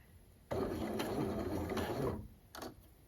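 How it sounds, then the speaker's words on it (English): A sewing machine test-stitching with a twin needle runs in one steady whirring, mechanical burst of about a second and a half, followed by a short second run, close and fairly loud. "now we're gonna test out our stitches with our twin needle"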